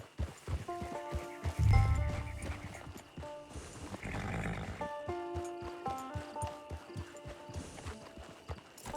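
Horse hooves in Red Dead Redemption 2 Online beat a steady clip-clop at walking pace, with a heavier snort or whinny early on and low ambient game sound beneath.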